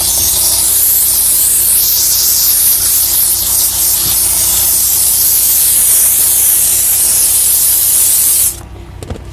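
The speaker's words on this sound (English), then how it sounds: "I love it because of the continuous steam I'm getting" A steam cleaner sprays a continuous, loud hiss of steam while detailing a vehicle in cold weather, a steady broadband jet that cuts off abruptly near the end.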